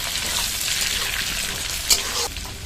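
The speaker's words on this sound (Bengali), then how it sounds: "শুধু আলুটা ভেজে নেব" Potato cubes frying with spices in a pan give a steady, close sizzle with a brief sharper crackle partway through, no voices over it.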